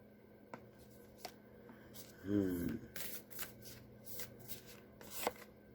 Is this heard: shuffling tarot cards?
yes